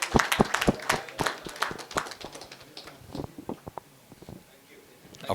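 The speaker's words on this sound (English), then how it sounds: "Another round of applause," Applause at a corporate N2N business event in a Bengaluru hotel ballroom: a burst of dense, crisp hand clapping that gradually thins into scattered claps, with voices talking over it.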